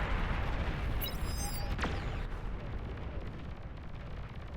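Explosions in the strategy video game Beyond All Reason, with dense, continuous booming rumble and crackling blasts throughout, plus a brief sharp streak near the start.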